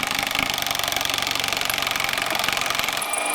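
A battery-powered impact wrench drives a socket on the shaft of a homemade car, giving a loud, continuous, rapid hammering buzz with even pulses that cuts off abruptly near the end.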